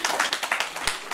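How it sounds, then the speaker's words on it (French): Audience applause for a speaker at the launch of a women leaders' movement in Mali, a brief burst of dense clapping at moderate volume with no voices over it. "Applaudissez pour elle."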